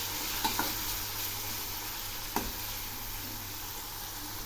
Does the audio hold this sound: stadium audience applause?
no